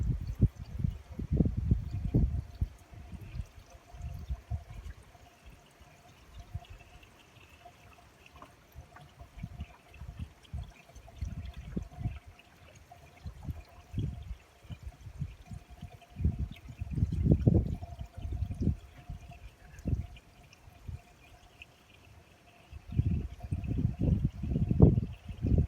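Coolant poured into the cooling system of a 1995 Ford EF Falcon GLI during a water pump change, with uneven bursts of splashing and gurgling liquid close by and quieter trickling between pours.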